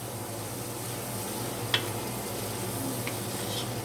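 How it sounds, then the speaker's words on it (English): Vegetables frying and being stirred in a pan, a steady close sizzle with a couple of brief clinks of a utensil against the pan and no talking. "So I'm stirring this up"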